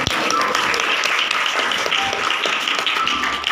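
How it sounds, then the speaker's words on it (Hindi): Church congregation clapping during worship, a lively, fairly loud patter of many hands with scattered sharper claps and a brief voice in the background. "ताली बजाएंगे।"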